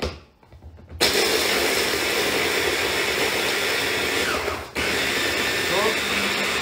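An electric mixer chops biscuits for a cheesecake base. After a second of near quiet, its loud, steady motor whir starts. It runs evenly, cuts out briefly, then resumes at full strength.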